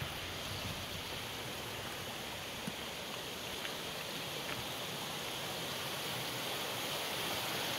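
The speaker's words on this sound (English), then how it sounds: "Hope that water sound good. Hope it sound relaxing to you." Linwood Falls waterfall rushing steadily outdoors, a constant broadband hiss of falling water, fairly faint and unbroken with no voices.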